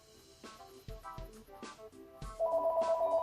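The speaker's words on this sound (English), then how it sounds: "I apologize for the phone ringing in the background." A telephone rings in the background, a series of tonal ringtone bursts ending in a sustained steady tone, fairly faint behind the room sound with no talk.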